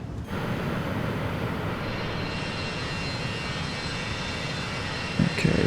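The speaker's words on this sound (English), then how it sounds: "my EPU's still on. I can always hear it when I go out exterior of the plane" An aircraft external power unit runs outside a parked plane at an airfield, a steady loud droning hum that holds for several seconds before a brief bump of handling noise near the end.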